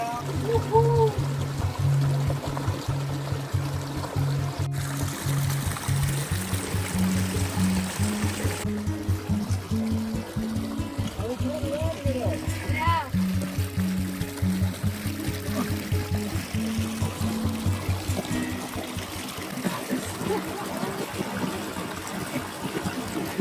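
Cold water pours down into a shallow natural plunge pool, a steady rushing splash running throughout with people talking over it.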